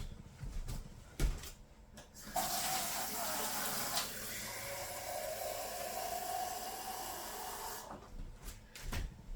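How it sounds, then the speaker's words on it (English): Lukewarm water runs from a kitchen tap into a measuring cup for a sourdough starter, a steady rushing stream of about five and a half seconds framed by brief clatter and handling noise before and after. "it's just lukewarm water from the tap"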